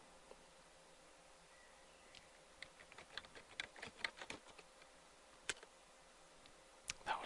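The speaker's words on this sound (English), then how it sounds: "just a typing one. Let's play this one" A recorded computer keyboard typing effect plays back quietly, with scattered clicks building to a quick burst of keystrokes and a few more taps at the end.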